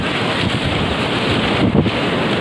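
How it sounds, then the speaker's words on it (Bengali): A strong tidal surge pounds the shore at Digha Mohana beach, a loud continuous roar of crashing surf mixed with heavy wind buffeting the microphone, with one slightly bigger wave hit near the end. "প্রবল জলোচ্ছ্বাস চলছে দীঘা মোহনায়"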